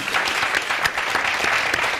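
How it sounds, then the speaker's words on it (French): A studio audience on a television talk show applauds for a group of aunties, a brief, dense and lively patter of many clapping hands, close and loud. "Applaudissements pour elles."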